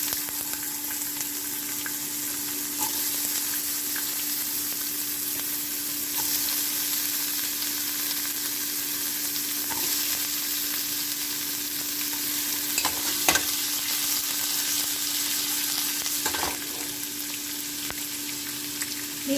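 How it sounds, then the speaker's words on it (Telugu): Watermelon rind pieces fry for pachadi in a pan with a steady, close sizzle, and occasional spoon stirs and scrapes break through the constant crackle. "అన్నీ వేగిపోయాయండి."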